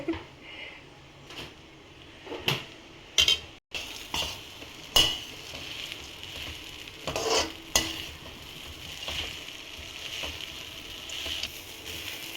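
Idli upma gets its final stir in a pan, soft sizzling beneath repeated scrapes and clinks of a spoon against metal, close and fairly quiet with no talk.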